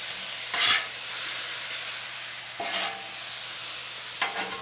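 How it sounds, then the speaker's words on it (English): Venison and vegetables sizzling on a flat-top griddle while being stirred and folded together for Philly cheesesteak, a steady soft fry hiss broken by three brief scraping bursts of a spatula, close and alone without talk. "We're going to fold in our vegetables into our meat."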